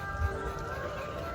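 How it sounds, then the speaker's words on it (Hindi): A street vendor's vehicle arrives playing a loud, steady electronic jingle of sustained tones, close by and constant for the whole moment, with no speech. "देखो गाड़ी वाला भी आ गया, उसकी आवाज़ इतनी तेज है कि सुनाई भी नहीं देता।"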